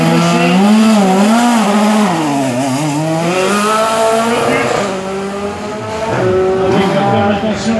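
A single-seater race car launches at the start of a hillclimb in France, its engine loud and close, revving with rising and falling pitch through gear changes while a commentator talks over it.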